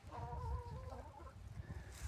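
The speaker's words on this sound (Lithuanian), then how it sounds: "Perkeliam čia vištytės" Chickens clucking softly on a farm as they are moved to a sunnier spot, a few drawn-out clucks and murmurs heard faintly at close range with no talk.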